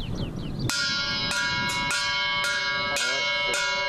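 A polished bell made from an artillery shell casing rings out six times at a steady pace, each strike bright and ringing with long sustained overtones, close and loud.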